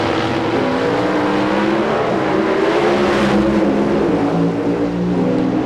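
A 1994 Ford Probe drag racing car launches hard down the strip at a Rockingham NHRA event, its engine a loud, sustained roar that holds steady for several seconds.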